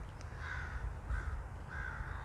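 Crows cawing outdoors: three drawn-out caws at a moderate distance, spaced roughly evenly over steady low background rumble, with no voices.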